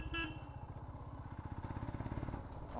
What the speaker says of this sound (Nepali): हर्न नबजाउँ भन्छ, हर्नै बजाउनुपर्छ।